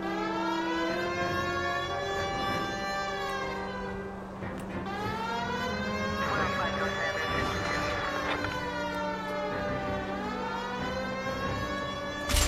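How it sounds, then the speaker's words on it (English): An emergency vehicle siren wails steadily throughout, its pitch sweeping up and down in long repeating cycles, loud and close with no pauses. "Turn the siren on."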